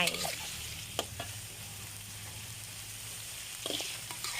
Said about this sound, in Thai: แล้วก็รวนต่อจนหอม